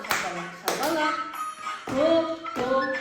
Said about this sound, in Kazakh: Шапалақ, топ. Шапалақ, топ.